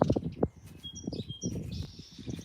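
Brown sparrow chirping in a short run of high, thin tweets over a low rumble and scattered handling noise, with the calls coming and going rather than steady.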